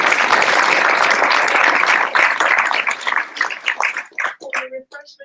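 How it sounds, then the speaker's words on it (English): A conference audience applauds loudly and steadily for a panel, then the clapping thins out into scattered claps and fades, with a brief murmur near the end. "please give the panel a round of applause."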